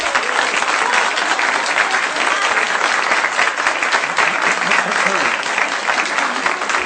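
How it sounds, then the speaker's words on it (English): A large audience breaks into loud, dense applause that holds steady and unbroken for the full stretch. "save the applause till the end."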